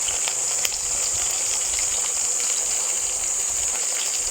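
Coconut katsu fries in a pan of oil with a steady, close, unbroken sizzling hiss that holds at an even level throughout.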